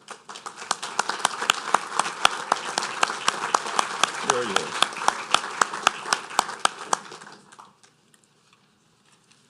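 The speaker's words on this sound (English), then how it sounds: "So if we could give him a round of applause, I'd appreciate it." An audience at a parish council meeting applauds, a dense patter of clapping with sharp individual claps that holds steady for several seconds and then stops abruptly. Talk runs underneath.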